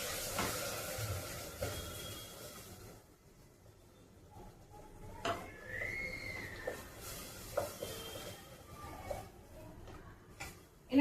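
Tomato puree sizzles and cooks in a pan for pav bhaji, a steady soft frying hiss with occasional stirring clicks and utensil taps, close by and moderate in volume.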